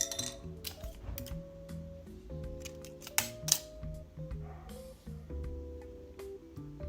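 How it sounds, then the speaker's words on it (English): Scissors snipping crochet yarn give a few quick, light cuts and clicks over steady background music, with two sharper snips standing out near the middle. "I'm just going to cut off my yarn here."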